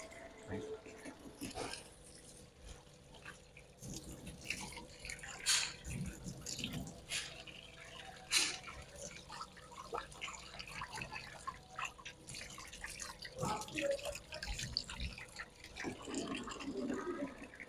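Tap water running and splashing into a sink during a surgical hand scrub, a fairly quiet steady wash of water with scattered drips and hand splashes, fairly close, with faint voices now and then.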